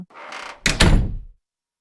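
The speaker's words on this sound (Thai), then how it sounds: "เธอจะได้ยินเสียงประตูปิดเอง" A door slams shut on its own in a ghost story, a heavy thunk with a short rattling tail following a softer brushing sound, close and loud with no voices.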